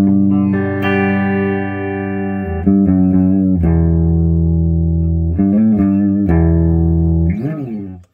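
A Kramer Baretta Special electric guitar plays through a Stax ODrive-11 Tube Screamer clone pedal into the clean channel of a Randall RX120RH amp. Sustained chords and single notes ring out loud with some bends, and no one speaks.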